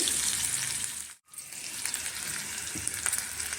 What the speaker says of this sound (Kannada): ಇದನ್ನು ಬಾಟ್ಬಿಟ್ಟು ಒಗ್ಗರಣೆಗೆ ಹಾಕೋಣ ಇದೊಂದು ಸ್ವಲ್ಪ ಚೆನ್ನಾಗಿ ಬಾಡಲಿ